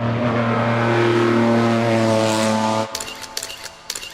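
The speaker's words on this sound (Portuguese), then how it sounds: "com um rugido de motor que ecoaria para sempre no mundo" A 1967 Toyota 2000GT engine roars in a loud, steady drone close by, then cuts off abruptly, leaving a few scattered metallic clatters and knocks.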